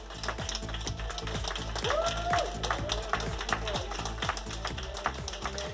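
Hospital staff clap steadily as a coronavirus patient is discharged from intensive care, with rhythmic group applause heard over a news narrator speaking Spanish.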